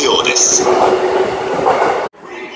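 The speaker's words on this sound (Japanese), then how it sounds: "快速神津行きが参ります。" A JR East train pulls into a station platform on the Tokaido Line service, a loud rumbling roar with a faint high squeal that cuts off abruptly, while a platform announcement plays over it.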